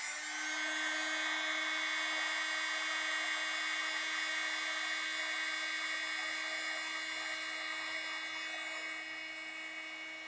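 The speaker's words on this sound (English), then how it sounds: "I've got my heat gun, I'm gonna see if this will melt" A heat gun runs steadily while melting buffing compound, giving a constant high-pitched whine over a fan hum that fades slightly toward the end, with no speech.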